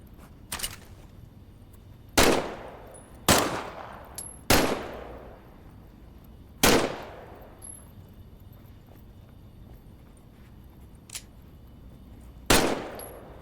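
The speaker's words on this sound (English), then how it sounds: "Just to be sure, why don't you test fire your weapon?" Test-firing a weapon in the virtual-reality war game Medal of Honor: Above and Beyond, a string of loud, sharp single gunshots spaced irregularly a second or two apart, each with a short echoing tail, alone without talk.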